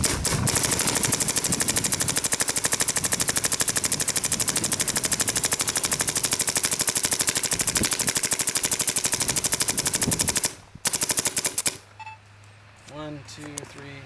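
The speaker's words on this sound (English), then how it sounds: "Still shooting really consistently." A Lurker gun fires repeatedly across a field in a rapid, loud, continuous burst lasting about ten seconds before stopping abruptly, followed by quieter bursts and some talk.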